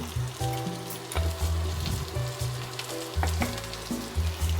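Paneer dish ingredients fry in a pan with a steady sizzle, joined by occasional scraping stirs, with no talking.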